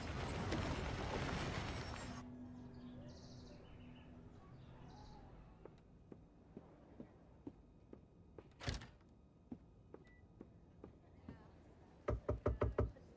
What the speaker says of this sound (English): Who's that knocking?